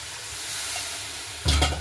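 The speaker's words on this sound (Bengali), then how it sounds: "এখানে আমি দিয়ে দিচ্ছি জল।" Water hits a pan of chicken curry sizzling in oil, the steady frying hiss suddenly bursting into a louder, bubbling splash near the end.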